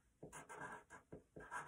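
Pen strokes scratch across paper in three short bursts, close and clear, with brief pauses between the stroke groups and no talking.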